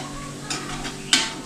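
A spoon scrapes and stirs through thick rice porridge in a pot, two short bursts of scraping over a low background hum.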